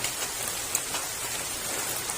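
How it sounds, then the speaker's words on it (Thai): Steady rain patters on a corrugated metal roof at night, a dense, even wash of drops close by with a faint tick or two, no voices. "นอนฟังเสียงฝนตก สังกสี ทั้งคืนเลยครับคืนนี้"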